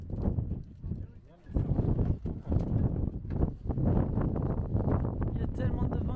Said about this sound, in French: Il y a tellement de vent que ça nous fait une tempête de poussière, de sable mélangé, on voit plus rien.